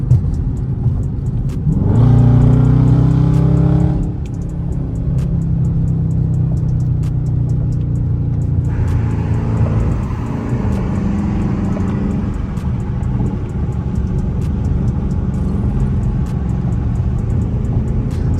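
A Dodge Charger RT accelerates hard with paddle-shifted gear changes, the engine revving up loudly and close, dropping at each shift, then climbing again through a sustained pull.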